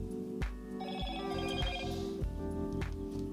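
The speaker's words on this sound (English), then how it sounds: "this is the sound that you're used to hearing every time you get a notification" A Moto G Stylus 5G phone plays its default notification tone, a bright repeating chime with sharp struck attacks roughly every half second, heard close and alone.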